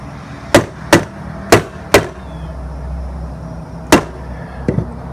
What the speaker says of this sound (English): one thing I want to stress about this hammer tacker